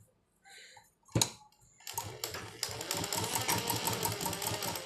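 A sewing machine stitching cloth while a garment is made, starting after a few handling knocks and then running steadily and close, a fast even mechanical chatter.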